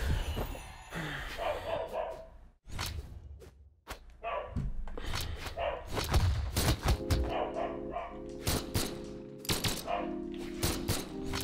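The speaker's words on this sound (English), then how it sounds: "Sorry about the dog barking in the back if you guys hear that." A dog barks in the background during a ranked 1v1 game session, with sharp intermittent barks mixed among game thumps and impacts, moderately loud, with little talk over it.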